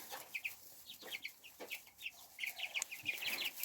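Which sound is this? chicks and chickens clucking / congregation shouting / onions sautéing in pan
chicks and chickens clucking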